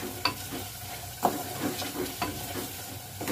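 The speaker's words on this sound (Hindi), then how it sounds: "इसको भून रही हूँ मैं।" Tomato, green chili and spices frying in a pan at home, with a low continuous sizzle and a few distinct spatula clinks as the mixture is stirred, close and without speech.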